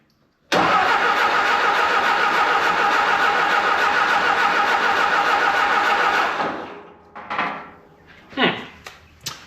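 A Volkswagen Beetle engine with no spark cranks steadily and loudly for about six seconds without catching. After the starter stops, a few brief clunks and faint noises follow.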